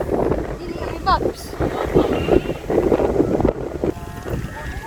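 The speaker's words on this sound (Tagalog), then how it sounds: "Lumakas yung hangin." Strong wind buffets the microphone in heavy, rumbling gusts outdoors while kite flying, with people talking over it.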